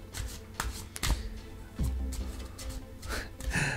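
Angel oracle cards from the Starlight Avalon deck are shuffled by hand in a few quick riffling bursts, close and quiet, with soft handling noises between them.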